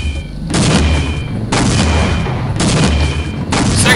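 Grenades fired and exploding in Half-Life with the Buzzy Bots mod, several loud booming blasts about a second apart, each a broad burst with a ringing tail.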